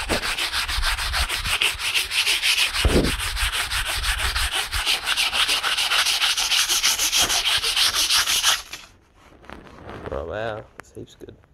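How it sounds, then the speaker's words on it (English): Steady rubbing of sandpaper on the wood of a slot car track, a continuous close scratchy stroke for several seconds before stopping, followed by quieter handling noises. "I reckon if I just give that a little bit of a sand down now"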